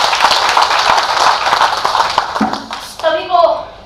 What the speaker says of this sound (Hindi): मैं चाहती हूँ आप लोग एक बार उनके सम्मान में जोरदार तालियां बजाएं।